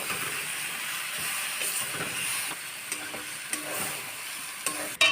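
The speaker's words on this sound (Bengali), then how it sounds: "এবার শাকটাকে ভালোভাবে নাড়াচাড়া করে নেবে।" Drumstick leaf greens stir-fried with garlic in a pan, a steady hissing sizzle close by with light, intermittent stirring scrapes and a clatter at the very end, without talk.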